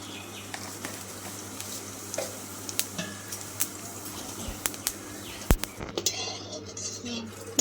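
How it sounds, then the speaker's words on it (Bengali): White cumin seeds crackle and sizzle in hot oil in a pan for a mutton dish, with a steady frying hiss and scattered sharp pops and utensil clinks, close and moderately loud, no talking. "আমি একটু জিরে ফোড়নে দিয়ে দিচ্ছি সাদা জিরে"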